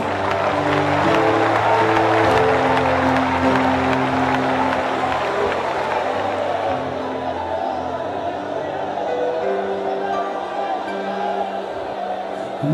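A church congregation at an Assembleia de Deus service in Penha, Rio de Janeiro, applauds in a dense wash of clapping mixed with voices and music, thinning out after about six seconds while tones carry on.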